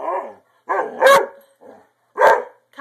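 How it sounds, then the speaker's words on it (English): A big dog barks in loud, close bursts, several sharp barks spaced across a few seconds with short quiet gaps between them. "I don't want the barks."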